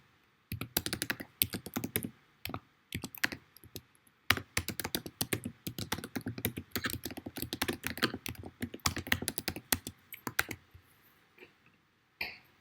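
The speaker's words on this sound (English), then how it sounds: "Let's type this." Steady bursts of computer keyboard typing run almost throughout, fast and close, with brief pauses between clusters of keystrokes and a few isolated taps near the end.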